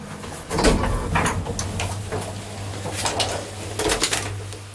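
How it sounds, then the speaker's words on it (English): Metal inner doors of an elevator in a university building in Copenhagen are pushed open by hand, giving scattered clanks, rattles and sliding scrapes over a low steady machine hum, with irregular bursts of clatter throughout. "I'm gonna try to open the inner doors a bit more."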